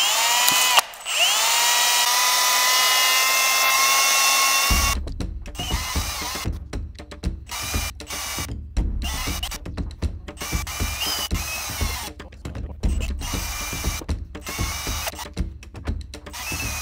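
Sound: polishing a transmission part with a Scotch-Brite wheel

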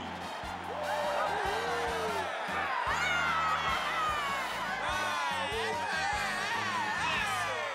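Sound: crowd cheering and applauding

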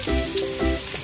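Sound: garlic frying in oil in a pan

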